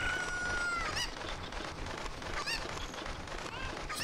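Cucco chickens in the video game Ocarina of Time cluck and squawk in repeated bursts, loud and close, over a steady game background with no talking.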